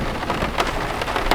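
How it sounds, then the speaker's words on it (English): Steady rain pours outside during a downpour, a dense, continuous hiss with scattered louder spatters and drips, close and fairly loud with no voices over it. "It's so raining out, it sucks."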